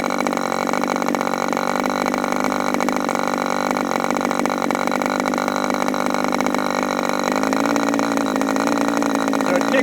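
An HB 61 engine on its first run, set to about 3,000 RPM, holds a steady, loud, continuous drone with a sustained buzz throughout and a slight shift in pitch near the end.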